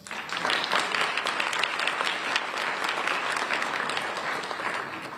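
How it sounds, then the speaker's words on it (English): An audience at a police community relations awards ceremony applauds the winning officers, a dense, steady wash of clapping that swells in quickly and holds for several seconds without speech. "We have a round of applause for our officers winning tonight."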